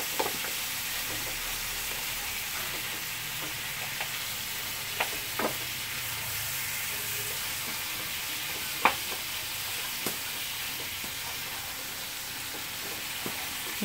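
Onion fries with beef steak in a pan, a steady close sizzle broken by occasional scraping and clicking of a utensil stirring against the pan.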